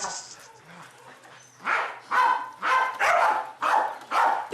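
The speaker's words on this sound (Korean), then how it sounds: "혼자 계속 저렇게 짖으면서 다녀요." A Welsh Corgi barking repeatedly, a steady run of five or six loud close barks in rhythm after some softer whining and rustle, with no talking.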